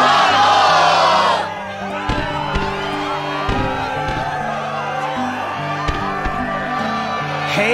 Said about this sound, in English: the crowd is fired up, so you know what comes next! Let's struggle!